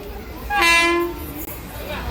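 A train horn, presumably the Mangaluru express on the Murdeshwar to Goa route, sounds one loud sustained blast of about three quarters of a second. A low rumble of rail and ambient noise runs underneath.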